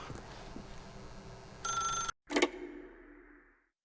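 A telephone in The Stanley Parable video game gives one loud bell ring over a low ambient background, followed by a sharp click and a fading tail.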